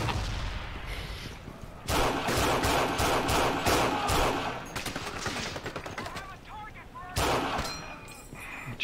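In the World War II shooter game Forgotten Hope 2, bursts of rapid automatic gunfire and single shots ring out loud and close, with voices talking between the volleys.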